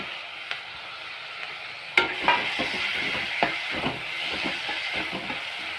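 Chopped tomatoes hit hot oil for egg thokku and start a steady sizzle, with scraping spoon strokes stirring the pan at close range.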